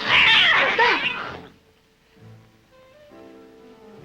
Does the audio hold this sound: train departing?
no